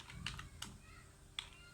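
A few separate keystrokes on a computer keyboard while a terminal command is entered, quiet and close in a hushed room, three sharper clicks standing out over a faint low hum.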